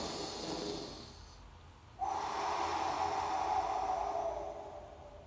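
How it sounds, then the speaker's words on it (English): A single slow, deep breath is drawn in from the stomach as a close, airy hiss that swells and holds for a few seconds before fading. "So we're going to take a deep breath from the stomach."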